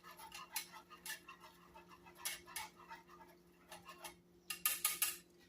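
A whisk beating vinegar into hot oil in a pan, giving a series of quick metallic clicks and scrapes in short bursts, fairly faint and close, with no talk.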